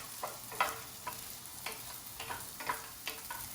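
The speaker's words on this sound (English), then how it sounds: "We're just going to toast it like we would rice for probably about 30 seconds" Farro grains toast and sizzle in a pan, with a soft continuous fry broken by repeated light scraping and stirring clicks at irregular intervals, close and fairly quiet, without any talking.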